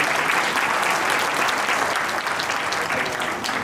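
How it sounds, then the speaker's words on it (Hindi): An audience at a school talent-honour ceremony claps loudly for the children: dense, steady applause from many hands that carries on without a break, with no voices standing out. "एक बार जोर से तालियां बच्चों के लिए जाए"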